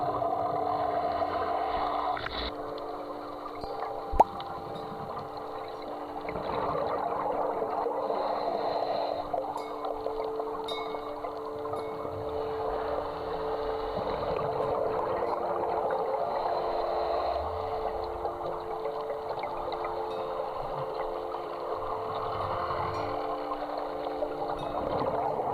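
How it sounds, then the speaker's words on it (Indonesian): Engine and propeller drone of a dive boat off Bangka Island, Indonesia, heard from underwater as a steady muffled hum and whir, continuous throughout with one brief sharp tick early on. "ternyata suara tersebut datang dari kapal kita"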